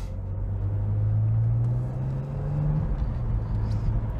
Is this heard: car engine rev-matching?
yes